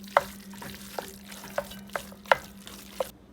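Sausage crumbles frying in a pan, stirred with a spatula in a few sharp scrapes and clicks spaced roughly every half second over a steady low sizzle, close and moderately quiet.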